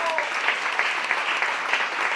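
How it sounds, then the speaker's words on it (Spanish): An audience gives a round of applause for two women guests on a Spanish show: a steady wash of clapping at moderate loudness, with a few sharper claps standing out, lasting about two seconds. "Os pido un gran aplauso para ellas"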